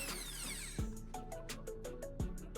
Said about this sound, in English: I'm carefully drilling a pilot hole through the marked spot.